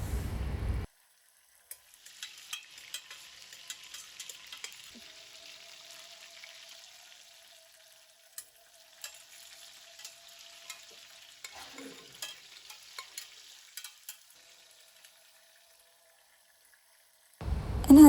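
Cashews and raisins frying in ghee, a soft steady sizzle with light stirring clicks, close and fairly quiet, with no talk.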